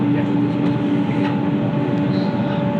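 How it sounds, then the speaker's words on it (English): Train running through the underground City Circle line near Wynyard, a steady loud rumble with tonal hum and faint clicks, heard from on board or close by, with no talking. "This train will start at Wynyard."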